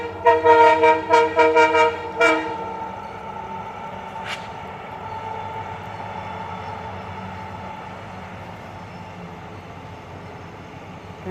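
A passing train sounds several short, loud horn toots in a quick rhythmic series, followed by one more distant toot and a long low rumble of the train rolling by, no talk.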